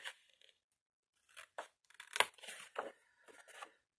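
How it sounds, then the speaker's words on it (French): Scissors cutting small squares of a box straight, quiet crisp snips in short bursts separated by pauses, close by. "du côté étroit, je coupe tout droit et j'épointe un peu mes petits carrés"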